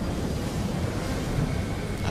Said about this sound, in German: Was für ein Sturm.